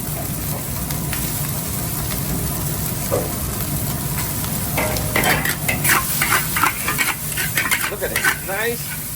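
Seasoned rice for Guyanese Chinese fried rice stir-fried in a hot pan, a constant close sizzle broken by repeated scraping and turning strokes that grow busier toward the end.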